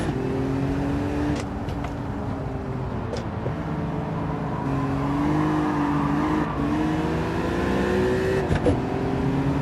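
An E36 BMW race car engine in a VR racing game, heard onboard as a steady loud drone with pitch rising and falling through gear changes and throttle lifts, a few brief clicks and tire scrubs on top.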